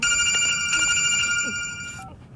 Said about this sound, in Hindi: उसे फोन दो।